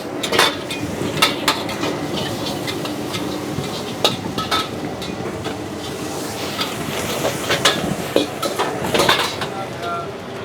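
Metal clanks and scrapes rapidly against a wok as squid and shrimp are tossed and stirred over a hissing flame, with a busy, clattering rhythm.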